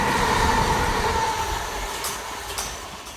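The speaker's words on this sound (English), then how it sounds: "Oh no, it's a train" A train rumbles through a tunnel in Coney Wood, a loud, dense roar of wheels and carriages that slowly fades, with a couple of faint high squeals near the end and no talking.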